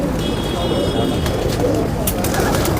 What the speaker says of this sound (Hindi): ये उस्ताद शेख अफजल के घर के कबूतर हैं।